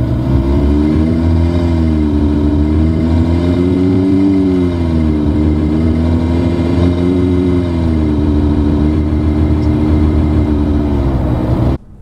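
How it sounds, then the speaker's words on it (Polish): Synthetic engine sound piped through a 2025 Omoda 5 with a 1.6 T-GDI 147 hp engine in Sport mode: a steady, loud droning hum whose pitch gently wavers up and down throughout, with no talking. "pojawia się wtedy dodatkowy sztuczny dźwięk silnika, który brzmi, przyznam, tragicznie"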